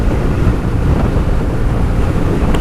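Loud, constant wind buffets the microphone while riding a BMW R nineT motorcycle at speed, a dense low roar that fills the whole stretch without letup and with no voices.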